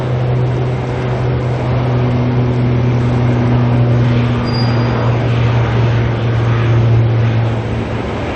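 An Antonov An-124 cargo plane departing Auckland Airport, heard as a loud, continuous jet engine roar with a steady low hum throughout.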